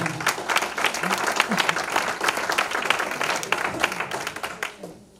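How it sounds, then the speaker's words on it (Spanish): A church congregation in the middle of a sermon breaks into sustained, steady applause that fills the room evenly for about five seconds, then thins out at the end. "Denle un aplauso al Señor"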